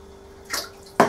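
A small splash of water added to a homemade paste-like fishing bait mix, two short close pours, the second louder and sharper, in an otherwise quiet room.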